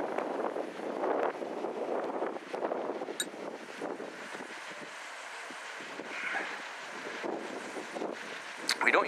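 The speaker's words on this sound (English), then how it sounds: "obviously some wind noise from the turbine" An HY-1000L wind turbine spins on a gusty day with a south-southeast wind, heard as a loud, rushing broadband whoosh that swells and eases with the gusts, with heavy wind buffeting on the microphone.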